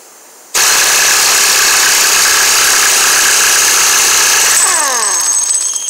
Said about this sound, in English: We want to see if this Matco Angle impact can remove the axle nut.